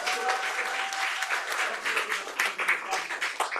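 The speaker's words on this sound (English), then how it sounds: "Let's give Coach Riley a round of applause" Applause for Coach Riley at a city council meeting, a room of people clapping steadily and fairly loudly, with individual claps standing out toward the end.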